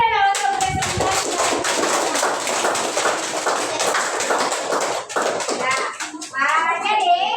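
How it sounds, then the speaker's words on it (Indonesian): A classroom of students claps together after a group presentation, a fast, dense patter of many hands close by that carries on for several seconds, with children's voices audible at the start and end. "tepuk tangan dulu untuk presentasi"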